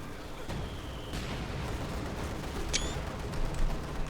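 Machine gun fire and explosions in the World War II strategy game Company of Heroes 2: dense rattling bursts and booming blasts layered into continuous battle noise with a few sharp cracks.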